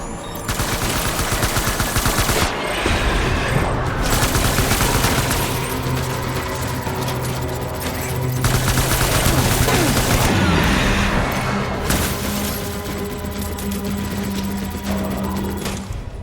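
Sustained automatic fire from an armored assault rifle in Death Stranding, loud and close, pouring out in long rattling bursts with brief pauses between them and a low mechanical drone underneath, and voices occasionally speaking.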